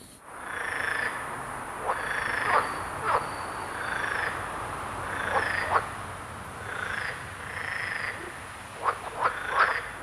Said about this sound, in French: on devrait entendre les chœurs des grenouilles vertes se mettre en marche